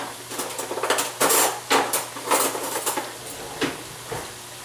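Metal forks clatter and scrape in a heating frying pan of Mongolian-style chicken and fried potatoes, a steady run of close, loud metallic clinks and stirring scrapes with no talk.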